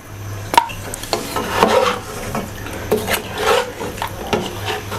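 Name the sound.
raw chicken being put into a karahi on the stove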